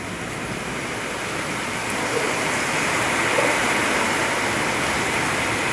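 Heavy rain pours down in Kolkata during a thunderstorm, a dense, steady, loud roar of falling water with no pause, swelling slightly partway through.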